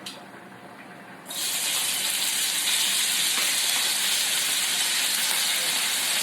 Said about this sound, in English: my oil is hot. I am going to add my beef bacon.